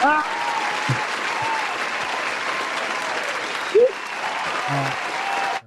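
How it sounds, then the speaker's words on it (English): Small group on a podcast episode gives themselves a round of applause, a steady burst of clapping for several seconds with brief voice fragments mixed in, ending abruptly. "Let's give ourselves a round of applause here."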